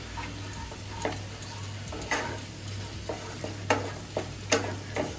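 A spoon scrapes and clicks against the pan in irregular strokes as potato and pumpkin are stirred with spices and Kashmiri red chilli powder for a Bengali chokka, over a quiet sizzle and low hum.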